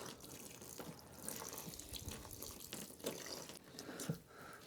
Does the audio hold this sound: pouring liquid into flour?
yes